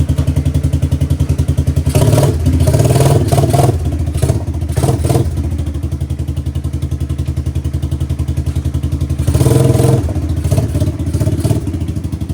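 1986 Suzuki Quadrunner LT250EF ATV engine running close by, a steady rhythmic single-cylinder putter with repeated surges of revving and clattering thumps, loud and alone without talk.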